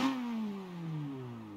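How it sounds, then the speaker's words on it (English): Video game car engine revved in neutral, its pitch gliding down after a short blip as the revs fall away, steady and fairly close with no voices. "I put this in neutral and give it a few revs"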